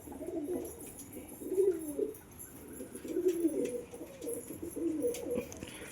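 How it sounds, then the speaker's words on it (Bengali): Pigeons coo nearby in repeated rolling bursts as one bird heads back to its eggs, the low burbling calls pulsing every second or so with faint higher chirps behind, no talking. "ওই যে ও আবার ডিমে যাচ্ছে পায়রাটা"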